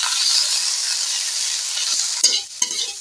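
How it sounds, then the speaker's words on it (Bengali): Beto greens sizzle in hot oil in a kadai with a steady, close hiss that runs the whole time, and two sharp scraping knocks from stirring come near the end. "প্রথমে আমি কড়ায় তেল দিয়ে আর এই শাকটাকে দিয়ে দেবো শাকটাকে নাড়াচাড়া করে নেব"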